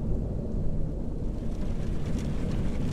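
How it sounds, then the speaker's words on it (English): Heavy rain with deep rumbling thunder fills a horror video game set in FNAF TJOC story mode, a dense, steady downpour roar that holds close and loud throughout with no speech. "I hear the rain now."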